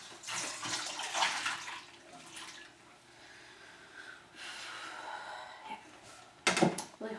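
Water from a pot of cooked lima beans drains into a sink, a soft splashing flow that swells and fades at low volume, ending with a brief louder clatter.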